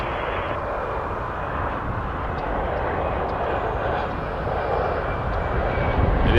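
An Air Canada airliner takes off from runway 23 at Toronto Pearson with a steady, loud jet-engine roar that grows slightly toward the end, heard from a distance.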